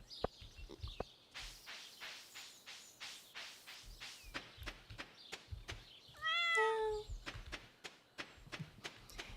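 Cat in Stardew Valley lets out a short, clear meow midway through, set among soft ambient chirps, light footsteps and tapping clicks in an otherwise quiet scene.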